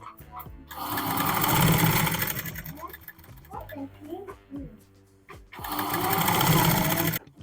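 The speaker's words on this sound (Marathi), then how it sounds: "जी दाब शिलाई मारायची ते अस्तरवरती मारते." A sewing machine runs stitches along the lining of a kurti in two sustained bursts, with a voice speaking during the quieter gap between them.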